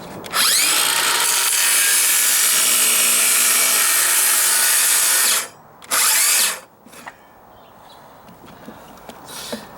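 A power saw cuts plywood for deck stairs with a loud, close, high whining buzz that runs for about five seconds, followed by a short second burst and a few brief bits of handling noise.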